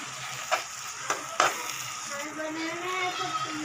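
A biryani mixture with turmeric being stirred in a pan over a soft background sizzle, with three sharp spoon taps against the pan early on, followed by a quieter stretch where a voice speaks faintly.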